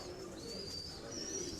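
A pigeon coos softly nearby in a quiet, faint stretch with low room hum, a single low, murmuring call.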